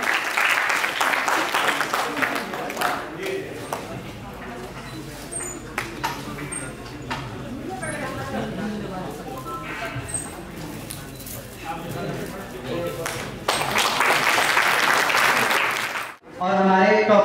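Loud applause from an audience welcoming a guest onto the stage at a toppers award ceremony, with sustained dense clapping through most of the stretch and a louder burst near the end.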